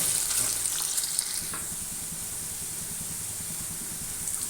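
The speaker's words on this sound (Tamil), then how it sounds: "இஞ்சி நல்லா வதக்கியாச்சு." Ginger sautés in a pan for a ginger-tamarind pickle, giving a soft, steady frying hiss that is slightly louder at first and then settles to an even, close crackle.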